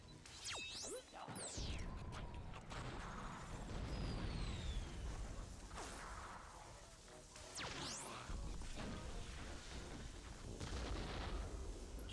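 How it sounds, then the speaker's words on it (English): Heavy rapid gunfire and explosive blasts from a minigun in the video game Conker: Live & Reloaded, a sustained loud barrage with crashes and whooshes and no talk. "I'm gonna give me the minigun."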